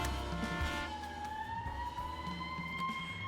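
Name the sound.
police car siren in video game This Is The Police 2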